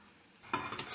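Egg chowmein in a pan with soy sauce and vinegar: quiet at first, then stirring starts abruptly, bringing loud hissing sizzle and scraping noodles that swell toward the end, heard close up with no speech.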